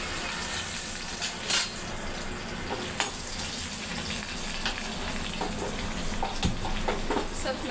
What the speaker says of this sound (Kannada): ಸ್ವಲ್ಪ ಮೆಣಸಿನ್ಕಾಯಿ ಫ್ರೈ ಆದರೆ ಖಾರ ಕಡಿಮೆ ಆಗ್ತದೆ.